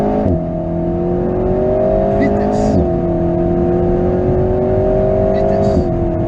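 A car accelerates hard on a driving track, its engine climbing steadily in pitch with two brief drops as gears change, loud and close with a continuous roar.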